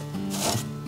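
A brief, soft rustle and crinkle of plastic cling wrap being stretched over a bowl of sticky dough, close and quiet, lasting under a second.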